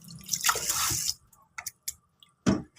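Water pours and splashes over rice as it is washed, a steady wet rush for about a second, then several short, separate splashes and drips close by.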